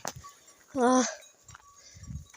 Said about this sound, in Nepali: अब बाख्राहरू चाहिँ छन् यहाँ